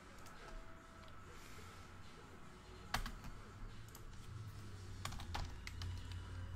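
Quiet keys tapped on a computer keyboard while typing into a chat during a basketball card box break, with scattered clicks, a sharper burst midway and a low background hum.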